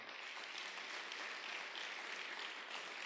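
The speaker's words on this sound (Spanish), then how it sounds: "dale un fuerte aplauso al Señor" A church congregation applauding the Lord during a Spanish-language sermon, a steady, even wash of many hands clapping at a moderate distance, faint overall and continuous with no talk on top.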